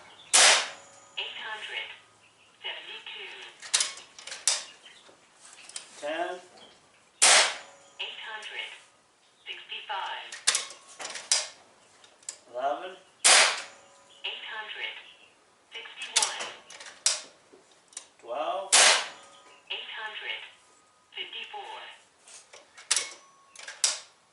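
Repeated shots from an AEA Challenger Pro .35 caliber air rifle, about a dozen sharp loud cracks spaced several seconds apart, with someone talking between shots.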